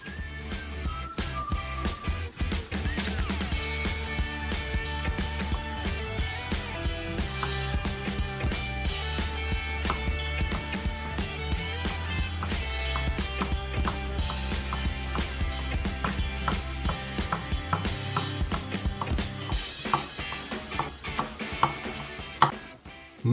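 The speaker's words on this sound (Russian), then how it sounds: "А вот звук при резе вы слышите сами." T-Wood bushcraft knife slicing carrots on a cutting board: a long run of rapid, crisp chopping clicks and crunches, close and fairly loud, with a steady tonal layer running underneath.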